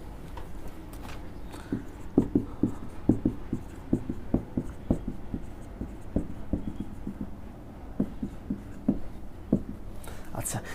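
Numbers are handwritten during a maths lesson on number series, a run of close, rhythmic tapping and scratching strokes with short pauses, against faint background noise.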